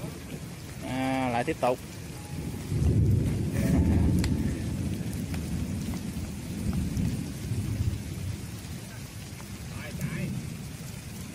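Heavy rain with rolling thunder during a mini kite-flying outing, a steady loud downpour with low booming rumbles, while a person speaks briefly over it.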